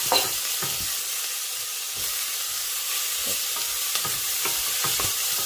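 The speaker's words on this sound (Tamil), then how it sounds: "வெங்காயம், இஞ்சி, பூண்டு வதங்கிறது" Onion, ginger and garlic sauté in oil in a pan for paneer butter masala, giving a continuous close sizzle with scattered scraping stir strokes and no one speaking.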